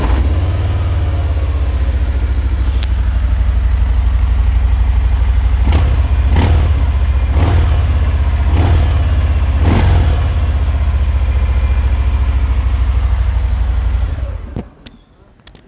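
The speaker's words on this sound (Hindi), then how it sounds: "स्टार्ट कर ही लिए तो पहले इसको फायर अप करते हैं, इसकी आवाज़ सुनाते हैं आपको" A Harley-Davidson motorcycle with a titanium 2-1-2 exhaust fires up and idles loudly and steadily close by, with a few sharper revs in the middle and the engine cut at the end.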